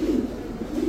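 Pigeons coo in a steady, throaty murmur, with no pause across the short stretch. They are fancy breeds, Pakistani teddy, Damascene, Budapest and racer types, and they sound close and moderately loud.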